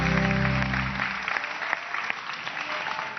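A studio audience bursts into applause for a street singer who has just performed a song on a Turkish TV talk show; the clapping is dense and sustained, following the final low notes of the song.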